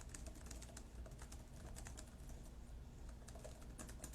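Fast, steady typing on a computer keyboard, a continuous patter of light key clicks heard alone at low level with faint background noise.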